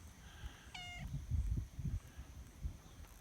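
A domestic cat gives a single short meow near a farm barn outdoors at dusk, followed by low rustling and handling noises close by.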